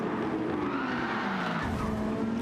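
Race car in Gran Turismo 7 skidding after a rival knocks it off line, a steady engine roar over tire scrub that shifts in pitch partway through, continuous and fairly close with no talk.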